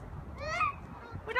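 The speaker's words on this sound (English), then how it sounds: "You hear geese?" Two short, nasal honks from geese, somewhat distant and faint, over a low background rumble.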